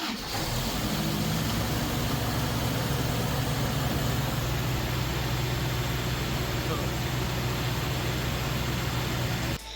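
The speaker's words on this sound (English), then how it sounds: "it was good to hear the engine running for the first time" The engine of a 1985 Toyota RJ70 runs steadily by itself, a loud, constant mechanical drone with no obvious revving. It goes on without a break for about ten seconds.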